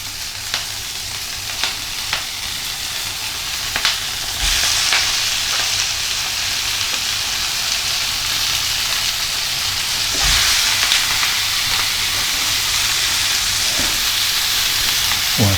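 Fatty pork belly sears in a pan over a gas flame, a loud continuous sizzle with scattered sharp spits and pops, swelling louder near the end; no one talks.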